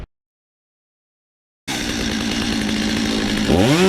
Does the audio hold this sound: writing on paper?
no